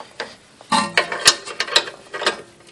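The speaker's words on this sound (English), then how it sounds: "I've got a torque wrench on it really, really hard." Torque wrench straining on a partly stripped Allen bolt during a motor mount job, heard close as a few sharp clicks and ticks in uneven succession.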